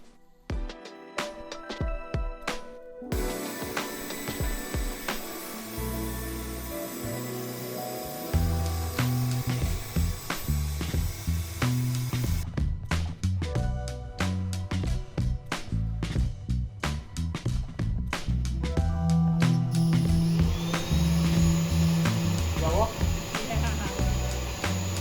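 Makera Carvera Air desktop CNC machine drilling garden stakes, with a steady whining spindle and buzzing cutting noise that shifts in pitch through several passes, broken by short rattling gaps and clicks. Speech is also present.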